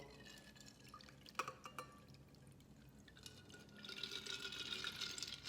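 A Manhattan cocktail strained over a hand held back as a makeshift strainer into a glass: a few faint clinks of ice early on, then a soft, steady trickling pour that grows a little louder near the end, quiet and close.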